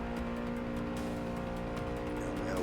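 A Renault Sport Clio 200 engine in the Forza 6 racing game drones steadily under power at Spa's Eau Rouge, a continuous buzzing engine note held at high revs without talk.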